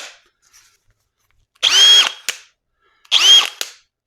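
Hercules cordless drill spinning up in two separate bursts, each a sharp whirring whine of roughly half a second ending with a click, separated by silence, close and clear.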